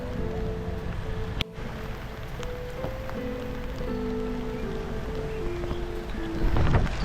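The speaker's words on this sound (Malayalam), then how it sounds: "മഴ നിർത്താണ്ട് പെയ്തുകൊണ്ടിരിക്കുകയാണ്" Heavy, unbroken rain pours over flooded riverside land near Koduvally's Poonoor river, a dense, steady hiss with a faint droning tone underneath and a brief louder swell at the end.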